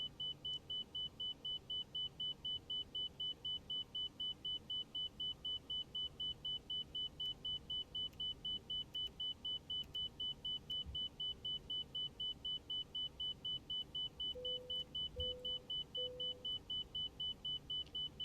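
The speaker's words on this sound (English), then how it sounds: "that's the inner marker. Annoying as all get out" Inner marker beacon in the X-Plane 12 flight simulator during an airliner approach at Dallas Fort Worth: a steady, rapid train of short high beeps repeats throughout over a constant engine and cockpit rumble.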